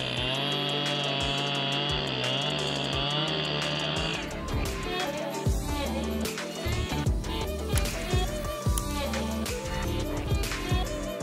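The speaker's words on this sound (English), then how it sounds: "CS1201 chainsaw's engine roars as an affirmation of its great power." A CS1201 chainsaw engine runs loudly up close while cutting a tree, steady at first, then the tone shifts into rougher, choppier bursts as it works.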